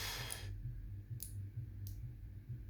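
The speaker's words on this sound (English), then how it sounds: "the little clicking noises you were hearing is probably because my follower is a little bit too short" Faint metallic clicks as an Abus 83C padlock is picked, a few sparse light ticks spaced about half a second apart over a low background hum.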